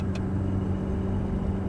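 A Ferrari F430 on a track, its engine droning steadily with a low, even rumble throughout, close and loud, with a brief click near the start and no talking.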